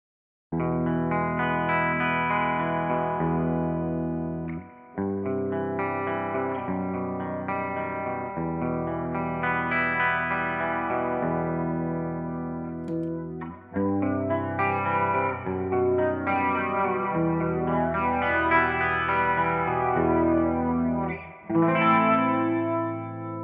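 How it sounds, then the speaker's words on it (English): An Epiphone Les Paul Special II electric guitar played through fuzz (Big Muff), flanger, Metal Zone distortion and wah pedals, sustained chords and riffs with swirling, heavily effected tone, loud and continuous with brief pauses. "Going to use a Big Muff, the fuzz pedal. Going to use a flanger pedal, a metal zone for some distortion,"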